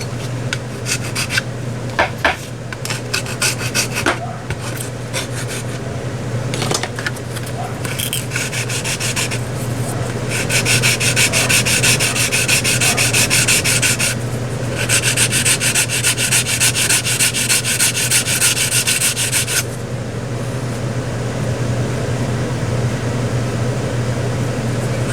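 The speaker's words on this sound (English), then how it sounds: "That's a little nut in the end of the tail cover of this fuselage. Gotta be sanded out." A small nut at the end of an RV6 fuselage tail cover is worked with a file and sanding, scraping and rubbing strokes that are irregular at first and then settle into long sustained passes, close and fairly loud over a steady background hum.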